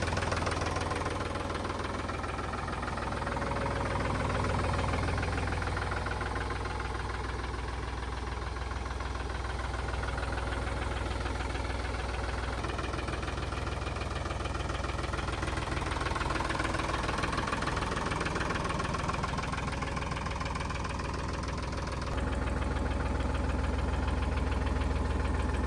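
A 2023 Powertrac Euro 50 Next four-wheel-drive tractor with about 100 hours of use idling, its diesel engine giving a steady low knocking rumble throughout, close and even, with a slight shift near the end.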